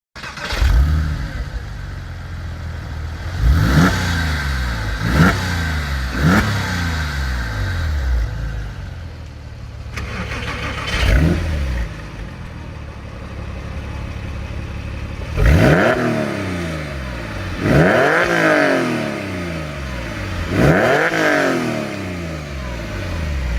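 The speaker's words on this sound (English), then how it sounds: "let's see a factory sport exhaust versus the stock" A Porsche 911 996 Carrera 4S (2002-2005) revs repeatedly, comparing the factory sport exhaust with the stock one: about eight sharp, loud throttle blips, each rising and falling away, in two groups separated by a brief lull, with no talking.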